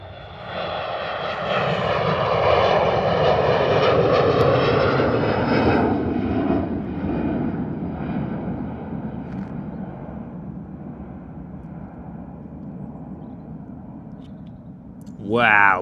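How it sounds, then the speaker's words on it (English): Boeing 737-300 jet taking off down the runway at London Stansted: a loud, close roar with a rising whine that swells early, then slowly fades as it departs, with brief talk at the end. "737-300 rolling. And an early rotation too."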